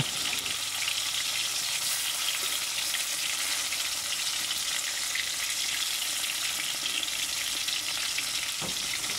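Tilapia pieces sizzle in hot oil, a constant crackling hiss heard close and unbroken, with one small clink near the end and no voices.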